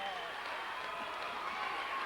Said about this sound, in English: Their crowd getting fired up